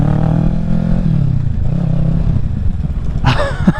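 A 2023 Kawasaki Ninja 650 with a loud Yoshimura Alpha aftermarket exhaust rumbles and revs up close, with a raspy exhaust note and a sharp clatter near the end.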